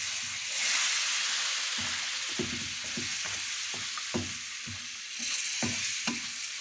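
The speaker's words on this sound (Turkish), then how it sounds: "Azar azar yedire yedire suyumuzu ilave ediyorum." Water poured bit by bit into roasted semolina for cheese semolina halva, a loud broad hiss that surges, with repeated rhythmic spoon scrapes and clicks while it is stirred.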